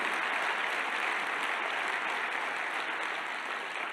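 A seated audience at a motivational talk for entrepreneurs applauds itself, an even, continuous patter of many hands at moderate distance with no distinct voices.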